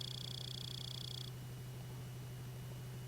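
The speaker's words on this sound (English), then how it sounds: "I just don't like this buzzing noise while it's when the car's not running, it's a horrible noise" A steady low electrical buzz from a stationary car in the racing video game Real Racing 3, a Porsche 918 Weissach, drones throughout, with a high whining tone over it for the first second before cutting off.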